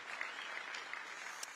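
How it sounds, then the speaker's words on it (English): A crowd at an Iowa faith and politics conference applauds, a faint, steady patter of many hands clapping at a distance for a brief moment. "You can applaud that."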